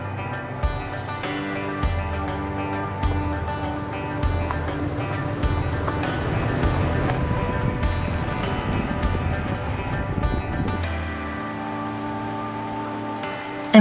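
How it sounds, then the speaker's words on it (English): An off-road vehicle fords a water crossing on a Colorado trail, with sustained splashing and churning water over a steady engine hum, building through the middle and easing off near the end; no one speaks. "And Frank finally got to do his very first water crossing."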